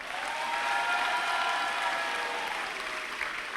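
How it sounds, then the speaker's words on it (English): Concert audience gives a steady round of applause for student performers, continuous dense clapping at even volume, with faint tonal sounds lingering beneath. "And an even bigger round of applause for our students."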